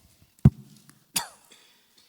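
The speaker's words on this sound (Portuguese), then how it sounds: "Eu estou com uma tosse alérgica que me pega todo dia" Two sharp, close coughs from a person with an allergic cough, the first short and dry, the second a rougher burst trailing off, with quiet gaps around them.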